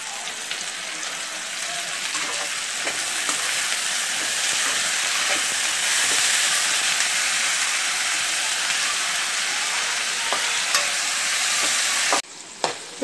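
Tomatoes sauté in a pan for pudina rice, giving a continuous loud sizzle with faint scraping from stirring throughout, cutting off sharply near the end.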